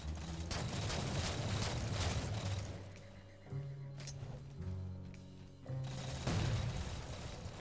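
DMR rifle fire in the Halo 4 video game, dense rapid gunfire bursts that stop briefly and then resume, loud and close with in-game mechanical noises between volleys.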